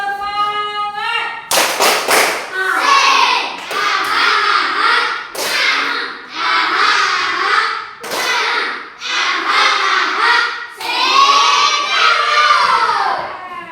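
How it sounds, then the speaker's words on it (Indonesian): A school class performs the rhythmic tepuk semangat spirit clap: loud group chanting broken by sharp, sudden claps at irregular points, with the whole room's voices close and full. "Nah, kita coba satu kali lagi. Tepuk semangat."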